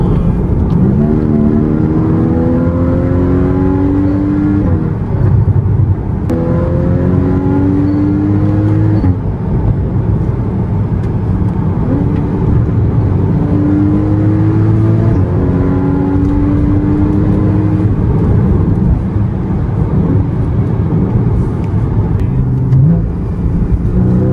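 A Porsche Cayman S 981 accelerates hard, its engine note climbing in repeated rising sweeps as it pulls through successive gears, loud and continuous with no talking.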